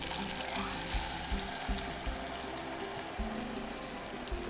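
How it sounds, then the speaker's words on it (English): Canned tomatoes poured into a pot already simmering on the stove, a close, steady wet pouring and glugging with soft plops and faint bubbling underneath, with no voices. "I'm gonna pour in the tomatoes"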